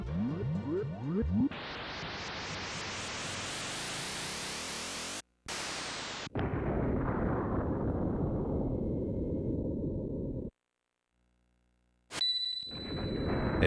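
Heavy, sustained blasts and roaring noise bursts from the Magitech Cannon in the SNES game Tales of Phantasia, loud and continuous with brief gaps, ending in a sharp metallic ring.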